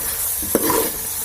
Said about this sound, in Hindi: ये देखिए मैं इसको भून रही हूँ, 1 मिनट तक इसको भूनना है।